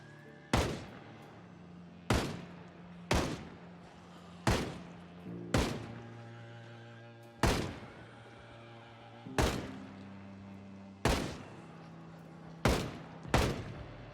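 Gunshots in the video game Project Zomboid, about ten loud, sharp single shots fired at irregular intervals of one to two seconds, each with a short decaying tail, over a low ambient game hum.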